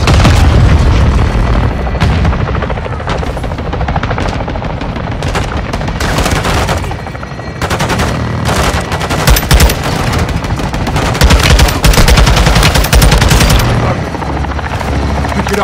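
Modern Warfare 2 gameplay with an artillery fire mission: helicopter rotors drone loudly and continuously under repeated heavy booms and bursts of machine-gun fire, forming a dense, loud battle wall.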